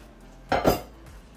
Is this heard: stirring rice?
yes